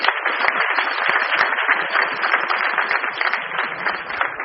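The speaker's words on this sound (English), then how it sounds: "Please give a big round of applause for that." Audience applause at a direct-selling company's product launch event, a dense, steady wash of clapping that stays loud and even throughout with no pauses.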